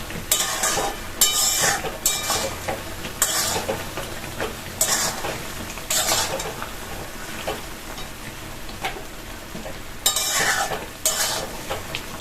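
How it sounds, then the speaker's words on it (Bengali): Mango pickle with spices is stirred in a pan over a sizzle, a spoon scraping and clacking against the metal in irregular strokes, close and steady, with no one speaking. "এখন এই মশলাটা দিয়ে একটু নাড়ানাড়ি করি"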